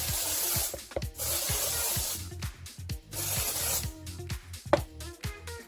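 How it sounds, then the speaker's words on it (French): Hair product sprayed onto hair before using a straightening brush: several close, hissing pump-spray bursts with short pauses between them. "Le petit spray."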